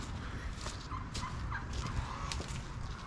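Farm turkeys gobble in short rippling bursts at a moderate distance over a steady outdoor background, with several calls overlapping across a few seconds.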